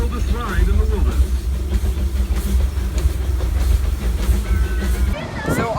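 A mine train roller coaster at Disneyland rumbles and clatters along its track with a heavy low roar, rattling continuously, with faint voices mixed into the background.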